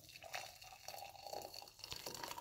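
Freshly boiled water pours from a kettle into a mug in a kitchen, a faint, soft, steady splashing trickle that runs for a couple of seconds.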